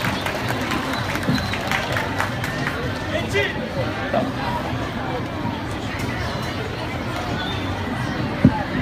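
An audience applauds to welcome the preacher Ömer Döngeloğlu onto a stage, a dense, continuous wash of clapping and crowd hubbub that stays even throughout, with one sharper knock near the end.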